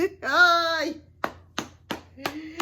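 A handful of sparse, sharp hand claps from a small group, coming one after another with short gaps, right after a brief voice.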